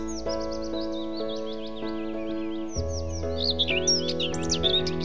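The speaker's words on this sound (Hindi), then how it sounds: "कितनी अच्छी लग रही है ना चिड़ियों की चहचहाने की आवाज" Birds chirp and tweet in the bird section of a zoo, quick high calls repeating over a steady tonal hum, growing busier and louder toward the end, with no talk.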